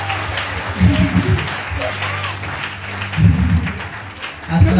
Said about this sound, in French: Acclamez pour les servantes et les serviteurs de Dieu.